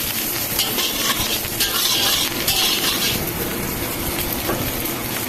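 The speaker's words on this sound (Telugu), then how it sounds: "ఇందులో కరివేపాకు, పచ్చిమిర్చి వేసి ఫ్రై చేయాలి." Curry leaves and green chillies fry in hot oil in a pan, giving a loud, steady sizzle with bursts of crackling and occasional stirring scrapes.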